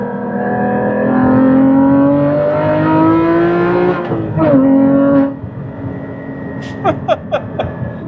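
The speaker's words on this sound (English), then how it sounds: "It's a bit more noise than I expected from the factory exhaust." Loud, steady engine drone from a 2016 Porsche Cayman GT4 manual on its factory exhaust holds high revs, then drops off sharply before a few quick crackles and pops.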